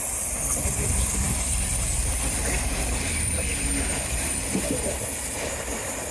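A train runs past near the old Skew Bridge, a steady broadband rumble and rush of wheels on rails heard close and loud throughout, with no pause or talk.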